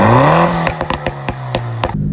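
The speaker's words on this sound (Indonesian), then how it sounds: "Dan ini knalpot standar GT-R pun suaranya kencang cuy." A Nissan GT-R R35 exhaust revs up, holding a loud rising drone that then drops into a rapid string of sharp pops and crackles before settling back to a low idle, heard up close.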